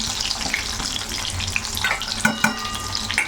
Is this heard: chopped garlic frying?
yes